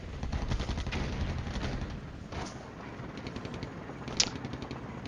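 Steady gunfire from the wargame Flashpoint Campaigns: Cold War, with rattling machine-gun bursts and scattered sharper reports at moderate volume, running continuously with no speech.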